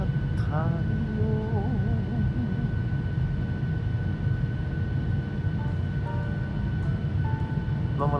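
Steady, loud cabin roar of an airplane descending toward Hakodate, with a continuous engine drone throughout and faint voices and brief chime-like tones over it.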